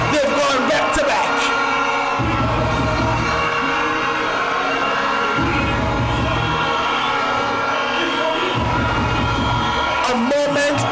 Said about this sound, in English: A moment to let this crowd noise marinate.